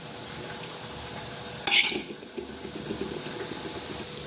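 Chicken pieces stirred in hot oil in a pan for homemade chicken pickle: a steady frying sizzle with one sharp scraping stir, then soft clinks and crackle continuing alone.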